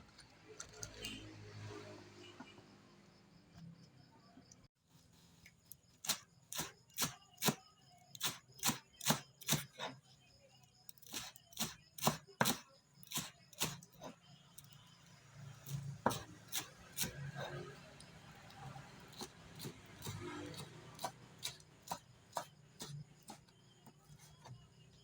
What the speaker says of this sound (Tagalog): So itong ating pitsay ay hiwain natin lahat.